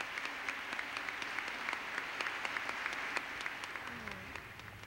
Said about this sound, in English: the entire crowd just rose to its feet and applauded wildly for an extended period